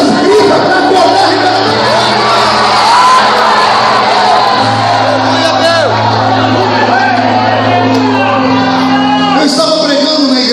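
A church congregation at an Assembly of God cathedral vigil shouts, whoops and cheers loudly without pause. Sustained musical chords hum underneath the dense crowd noise.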